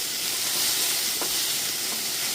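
Bitter gourd fries in a pan with a steady, fairly quiet hiss and sizzle, while a faint stir or scrape stands out briefly near the middle.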